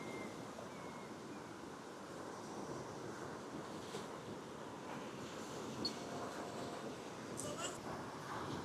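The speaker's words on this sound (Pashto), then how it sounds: "د اوبو اواز ته" Sea waves on the Cornwall coast in England: a steady, faint wash of surf mixed with wind noise buffeting the microphone, continuous with no distinct breaking crashes.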